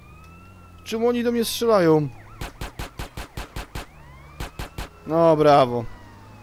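Police sirens in the video game GTA San Andreas, heard as a sharp, evenly spaced run of electronic pulses between stretches of someone talking in Polish over a low game hum.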